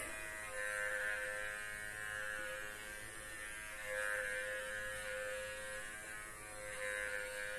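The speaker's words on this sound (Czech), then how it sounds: "doporučuji tady ten masážní kartáček" An electric facial massage brush buzzes steadily and quietly near the face, a continuous motor drone that gently swells and fades in intensity over several seconds, with no voices.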